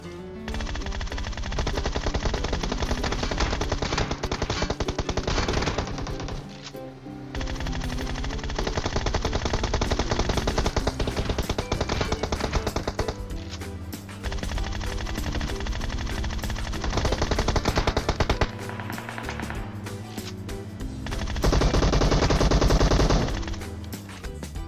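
Nearly continuous automatic gunfire from PUBG Mobile rattles on in long sustained bursts with brief gaps, loud and dense.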